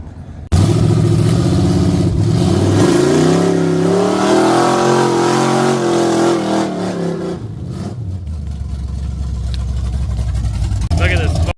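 Mud trucks rev hard while stuck in deep mud ruts, with a loud engine climbing in pitch, holding, then dropping back to a rough rumble. A second engine idles nearby.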